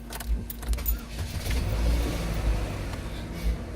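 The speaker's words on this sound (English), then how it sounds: "what I'm gonna do is I'm gonna actually turn the car on" Keys jingle before a 2006 Chevy HHR is started; the engine catches and runs with a brief rev, then settles, heard close by.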